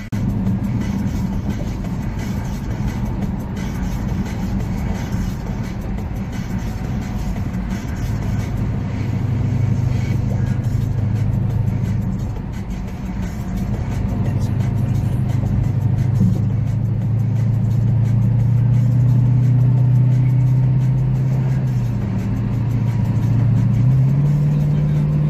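A small car accelerating during a street cruise in Galveston; a steady low engine drone builds and rises in pitch toward the end, close and loud, with wind noise over it.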